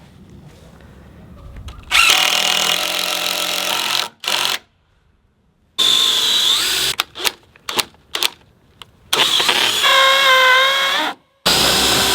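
A power tool driving timber lock screws into wood for a farm shelter, heard as loud, close bursts of whirring separated by pauses, the tool starting and stopping in short and longer runs.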